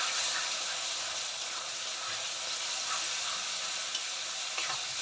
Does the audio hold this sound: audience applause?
no